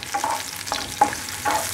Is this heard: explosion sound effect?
no